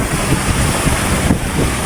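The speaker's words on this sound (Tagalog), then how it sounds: "ang lalaki ng alon" Big ocean waves wash around a small boat at sea in rain, a loud continuous roar of water and wind buffeting the microphone, with surging swells rising and falling.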